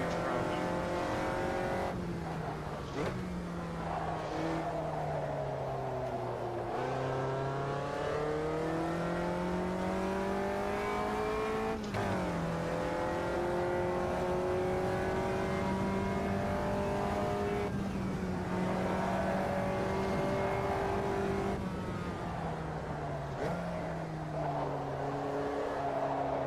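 A race car engine in a racing video game revs and drones without pause, its pitch climbing and dropping as the car accelerates and lifts off through corners, loud and close throughout.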